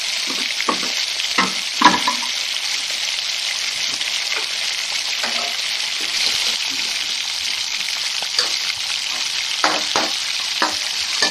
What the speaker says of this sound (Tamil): நல்லா கருவேப்பிலை தக்காளிலாம் வதங்கிடுச்சு தக்காளி வெங்காயம் எல்லாமே நல்லா கூட்டு மாதிரி வந்துடுச்சு